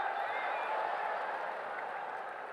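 Steady applause from an audience at a motivational speech by Navjot Singh Sidhu, a continuous even wash of clapping at moderate distance, without anyone speaking over it.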